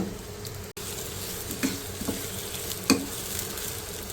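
Finely sliced onion frying in about a quarter cup of oil in a kadai, producing a dense even sizzle close up, with a few light clicks of a spoon against the pan.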